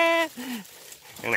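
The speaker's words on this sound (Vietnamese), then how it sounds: "Chỗ này vườn không có nhà cửa mà sao có chó đâu" A dog gives loud, close yelping barks from a rural garden plot with no houses nearby, in the Đồng Tháp countryside after rain.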